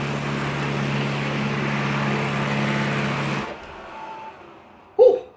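A robot vacuum mop runs with a loud mechanical whirring drone, steady like a jet engine, then cuts off abruptly, leaving a quieter hum and a brief sharp noise near the end.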